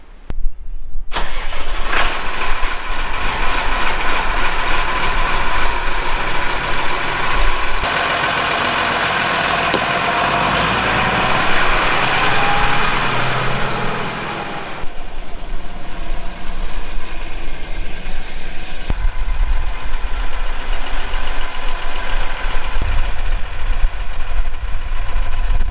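A tractor engine cranks and catches, then settles into a loud, steady idle that runs on for over twenty seconds, rough and close, with a brief dip and change in tone partway through.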